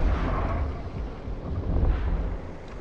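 Missiles striking targets in a T1 Abyssal video game run, a dense rumbling roar of blasts and booms that swells and fades, loud and continuous without a clear break.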